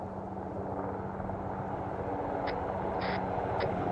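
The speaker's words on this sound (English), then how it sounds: "Chopper coming in from southwest." A helicopter approaches in the video game ArmA 3, a steady broadband rotor rumble with a low hum and a few brief high electronic beeps near the end.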